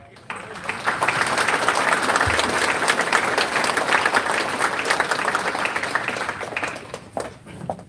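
A crowd at a congressional campaign event applauds a speaker being welcomed to the stage, with dense continuous clapping that stays loud for several seconds and then tapers off at the end.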